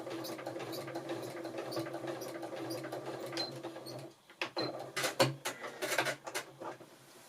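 A sewing machine runs steadily as it stitches a parallel line across a quilt, its motor hum continuous at close range before giving way to a few irregular clicks and knocks of handling near the end.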